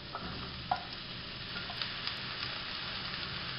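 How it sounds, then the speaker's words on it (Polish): Mushrooms fry in hot oil in a saucepan, giving a dense, steady hiss and sizzle with occasional small pops and crackles, close and continuous throughout. "Wrzucam pieczarki na rozgrzany tłuszcz."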